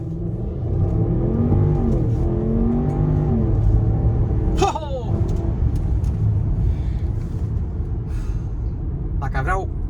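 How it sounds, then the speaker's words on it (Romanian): A Range Rover with a BMW V8 launching hard from a standstill in Sport mode, a loud, rising engine roar from inside the cabin with gear changes partway through, while people talk excitedly over it. "Chiar accelerează. Se ridică de bot și pleacă."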